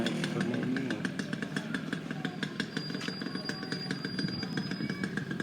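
A Suzuki X4 motorcycle engine runs with a loud, rapid, clattering exhaust putter, close to the microphone and steady throughout, with no talking.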